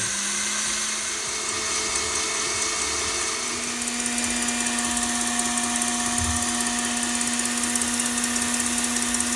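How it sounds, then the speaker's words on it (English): An electric mixer runs at high speed whisking meringue for a lemoncillo meringue pie, giving a steady, loud whirring drone with a high whine throughout and no talking. "Now this is just going to whisk on really high until it's really nice, light and airy."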